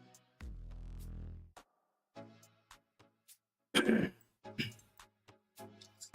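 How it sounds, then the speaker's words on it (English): A man clears his throat several times in short, harsh bursts between quiet pauses, close and fairly soft, with some brief vocal sounds mixed in. "I'm gonna be clearing my throat a fair bit"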